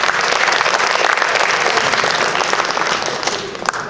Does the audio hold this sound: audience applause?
yes